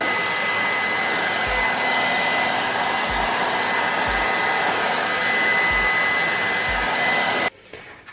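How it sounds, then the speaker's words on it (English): A heat gun blows steadily and loudly up close while shrinking heat-shrink tubing over a spring for an airsoft M249 machine gun, a constant whooshing roar with faint low knocks underneath, cutting off near the end. "Okay, and then heat shrinking."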